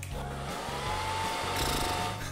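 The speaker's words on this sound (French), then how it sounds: "On va sécher tes cheveux." A hair dryer blows hair dry, giving a steady close whir with a low pulsing hum that shifts in pitch as the airflow changes, with no voices.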